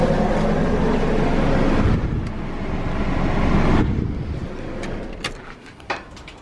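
A car engine idles during a coolant flush with the heater fan on full, a steady broadband rumble and blowing hiss that eases partway through, followed by a few faint clicks and knocks.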